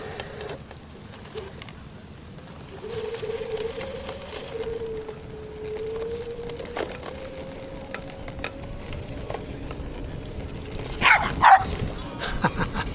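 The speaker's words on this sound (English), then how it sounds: "That dog scared me" A dog barks in a short burst of a few sharp yips near the end, loud and close, over steady outdoor road and ambient noise along a Southern California coastal ride.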